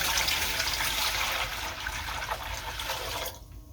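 Pickling vinegar for pickled walnuts pours into a jar as a steady, close liquid rush and splash that thins out and stops near the end, with no speech over it.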